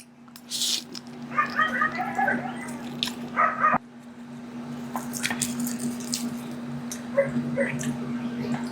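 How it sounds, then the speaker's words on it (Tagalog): Dogs bark and yip in short bursts at a distance, with a steady hum underneath and occasional faint voices. "pasensya na sa mga aso guys na naririnig niyo yung mga asong ingay"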